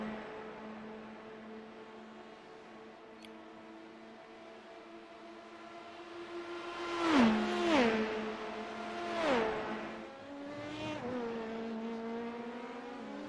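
Race cars in a virtual endurance racing sim accelerate out of the Mulsanne chicane, a train of engines whining and rising in pitch together, with several distinct swells as cars shift and pass close by.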